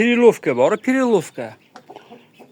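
Farm chickens kept with young chicks give loud close clucking calls in a quick series, followed by quieter scattered chirps and clucks.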